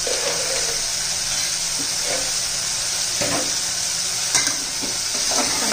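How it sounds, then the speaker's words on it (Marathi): Tomato, potato and peanuts sizzle in oil for masale bhat, a steady close frying hiss broken by occasional spatula scrapes and stirring knocks, with no voices. "तेलामध्ये परतून घ्यायचं आहे सर्व."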